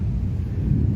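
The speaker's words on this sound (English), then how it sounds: "once again, there is a thunderstorm coming. And it's a big one." Deep, continuous low rumble of thunder from a big approaching thunderstorm, steady and fairly loud with no voices.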